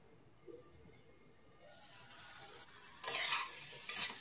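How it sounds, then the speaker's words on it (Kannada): Chicken gizzard and liver for a pepper fry cook in masala, a faint sizzle that swells into louder bursts of scraping and stirring in the pan near the end, no voices. "ಒಂದು 2ರಿಂದ 3 ನಿಮಿಷ ಚೆನ್ನಾಗಿ ಫ್ರೈ ಮಾಡ್ಕೊಳ್ಳೋಣ"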